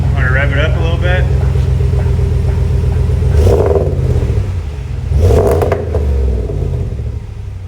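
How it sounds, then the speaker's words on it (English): A RAM 1500 V8 with a Magnaflow 19433 muffler idles with a deep, close rumble and is revved twice in quick blips, with a voice speaking over the start. "I want to rev it up a little bit."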